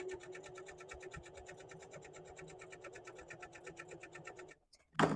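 A sewing machine stitches a rope basket with a fast, steady mechanical chatter of evenly spaced needle strokes for several seconds, then stops before a brief sharp clack at the end.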